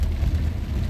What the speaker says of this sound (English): It's just pouring rain outside.